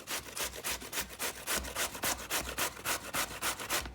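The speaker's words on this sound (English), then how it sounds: "So I'm gonna keep on grating my zucchini." Zucchini rubbed steadily against a hand grater, a close, loud rasping that comes in about fourteen regular strokes across four seconds, with no talking.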